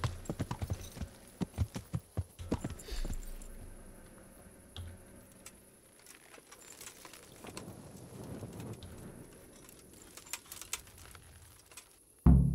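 Faint, irregular horse hoof clops on hard ground in Kingdom Come: Deliverance, a few steps at a time, against soft background noise, growing louder near the end.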